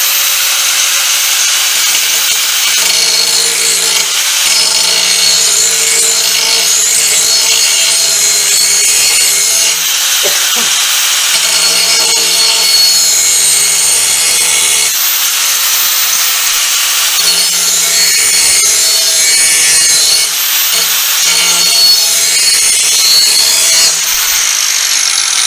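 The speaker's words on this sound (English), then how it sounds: "this thing's designed for grinding, and essentially we can call it polishing" A grinding machine runs steadily, grinding and polishing metal during lawn mower repair work, a continuous loud abrasive whir with gritty rubbing texture that shifts slightly in pitch through the stretch, with no talking over it.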